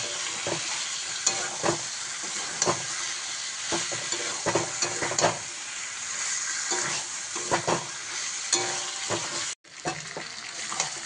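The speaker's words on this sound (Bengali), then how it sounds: "মাংসটা দিয়ে দিলাম। এবার একটু ভালোভাবে কষিয়ে নিই।" Chicken pieces sizzling steadily in hot oil in a pan while a spatula scrapes and stirs them in repeated strokes, close and continuous, with no voices.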